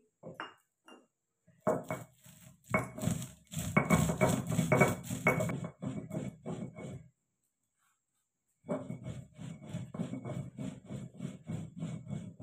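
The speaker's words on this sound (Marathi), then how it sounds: "आता आपण पाट्यावरती वाटण बनवून घेणार आहे. फुटाणे सगळ्यात अगोदर बारीक करून घेणार आहे." Roasted chickpeas being crushed on a flat stone grinding slab with a stone roller, rhythmic close scraping and crunching strokes in bursts, pausing briefly in the middle before resuming.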